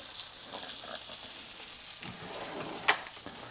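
Eggs and burgers fry in butter in a pan over moderate heat, giving a steady soft crackling sizzle with a brief sharp tick near the end and no talking.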